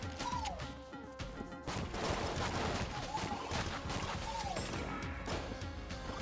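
Enemy gunfire in the bullet-hell game Enter the Gungeon, heavily modded: busy clattering volleys of shots mixed with mechanical rattles and recurring rising chirp-like tones, loud and cluttered throughout.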